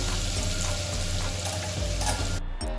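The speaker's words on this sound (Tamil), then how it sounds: "அதுக்கப்புறம் நான் கட் பண்ணி வச்சுருந்த சிறு வெங்காயத்தை ஆட் பண்ணிக்கிறேன்" Small onions frying in plenty of groundnut oil for a mushroom pepper gravy, a dense, loud, continuous sizzle and crackle that cuts off abruptly near the end, no voices.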